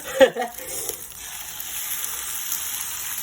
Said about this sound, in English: I'm going to add some eggs